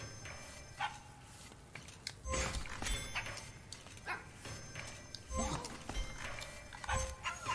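A dog barks in the puzzle video game HeartZ, with a few short yapping barks and clicks over a steady game background while people speak.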